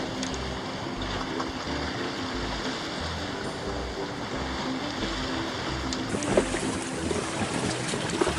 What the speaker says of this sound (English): for 2 hours we just sail along the bay as the rock slowly gets closer